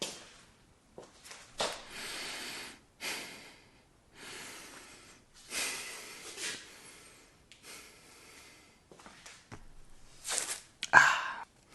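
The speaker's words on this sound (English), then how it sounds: "That is what we call nasal breathing." With the mouth taped shut, slow nasal breathing comes through as a series of soft, airy in-and-out breaths at a steady pace, very close and quiet, with a sharper snort near the end.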